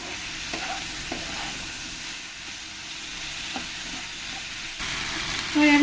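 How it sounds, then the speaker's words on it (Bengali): Ginger-garlic paste stirred into vegetables frying in a pan for mushroom pulao, giving a steady close sizzle with a few soft scrapes and a brief louder sputter near the end. "দিয়ে ভালো করে আমি ভেজিটেবলের সঙ্গে মিশিয়ে নেব"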